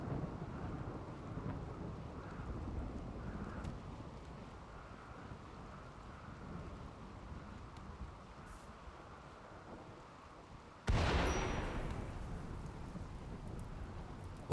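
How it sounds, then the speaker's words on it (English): A heavy thunderstorm rumbles through a RimWorld colony, a low steady roll with rain, then a sudden sharp lightning crack near the end that booms and decays, no talking. "we get a lightning strike in the base on our food supply."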